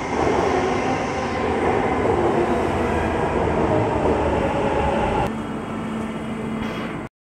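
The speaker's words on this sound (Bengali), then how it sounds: "এবার এই মেট্রোটায় আয়া এদিকে থামবো" A metro train pulls into a station with a loud, steady rumble of wheels and carriages close by, then the noise drops as it slows near the end, with no talking.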